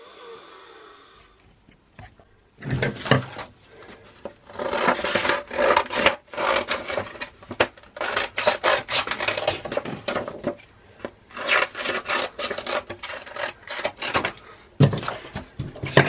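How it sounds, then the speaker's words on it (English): Rhythmic scratchy rasping of P120 grit sandpaper rubbed back and forth over wood, strokes fairly close and brisk, with a short pause near the start. "So next job is to sand it"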